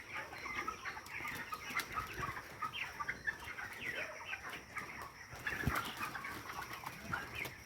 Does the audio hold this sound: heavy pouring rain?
no